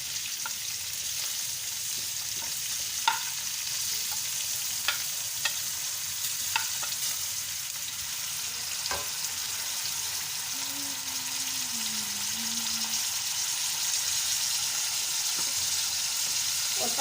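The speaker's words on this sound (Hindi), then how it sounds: "हम प्याज को और लहसुन को ब्राउन करेंगे लाइट।" Onions, with garlic joining later, frying in oil in a pan for aloo matar: a steady loud sizzle with occasional sharp clicks of a spoon stirring against the pan, and a brief faint tonal whine partway through.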